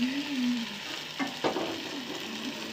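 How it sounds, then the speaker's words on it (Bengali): Dried fish fritters fry in hot oil with a steady, close sizzle and crackle, broken by a couple of brief louder spatters as they are turned. "এইভাবে পোর করে ভেজে নিলেই শুটকি মাছের বড়া রেডি"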